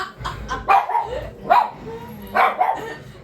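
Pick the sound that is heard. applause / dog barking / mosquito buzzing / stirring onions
dog barking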